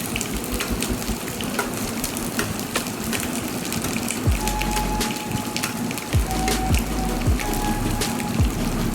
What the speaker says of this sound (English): I'm going to stir fry this onion until it's turned into golden brown color